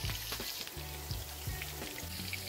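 Meat cutlets fry in a pan with a steady crackling sizzle, broken by a few soft stirring or shifting clunks, close up and with no talking.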